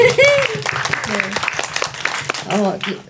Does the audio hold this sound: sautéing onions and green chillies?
no